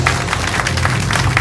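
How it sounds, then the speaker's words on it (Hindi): A studio audience on a quiz show claps for Mitthu Raipuria, steady dense applause throughout with a low hum underneath. "जोरदार तालियां हो जाए मिट्टू भैया के लिए।"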